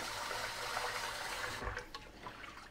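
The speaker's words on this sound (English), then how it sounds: "Some water, we're gonna mix the rice around." Short grain rice is washed in a pot of cold water: a steady, soft rush of running and swirling water, then quieter sloshing and dribbling as the flow stops.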